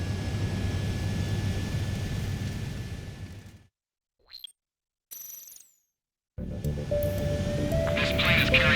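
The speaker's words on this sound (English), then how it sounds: "This plane is carrying civilians." A military jet aircraft roars steadily in the Ace Combat 7 video game, then cuts out abruptly. Brief electronic tones follow before the broad engine roar returns.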